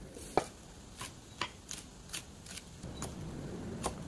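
Knife chopping fresh ingredients for Thai tilapia larb, a series of sharp separate cuts spaced unevenly, fairly faint and close, ending in a denser run of rustling strokes.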